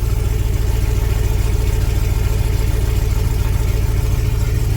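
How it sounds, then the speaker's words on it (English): LS-swapped Chevrolet C10 engine idling with an exhaust leak, a loud close steady low rumble with fast rhythmic ticking pulses running evenly throughout, no talking. "I do have an exhaust leak. I'm sure you guys can hear it."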